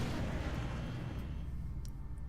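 Heavy Phoenix cannon fire from a Raven fighter craft in the strategy game X-Com, a continuous dense roar of booming blasts that stays loud and rumbling throughout, with no talking.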